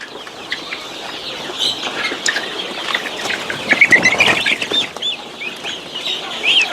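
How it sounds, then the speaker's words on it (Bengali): Hens and a rooster cluck and chatter on a farm, with several birds calling in overlapping bursts, close and lively, with a few sharper squawks toward the middle. "কোনটা মোরগ কোনটা মুরগি ভাই এটা আমাদেরকে দেখান"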